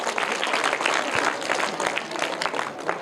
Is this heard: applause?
yes